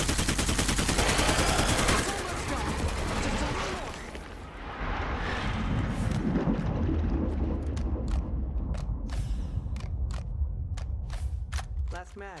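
Rapid bursts of gunfire in the zombie survival game State of Decay 2, starting with dense sustained firing that gives way to a run of sharp separate shots toward the end, loud and close.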